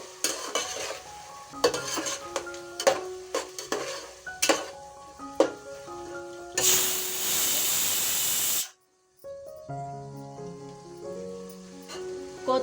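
Tomatoes being stir-fried in ghee for dum biryani, with repeated spatula scrapes and clinks against the pan, then a loud burst of steady sizzling hiss for about two seconds before the stirring resumes.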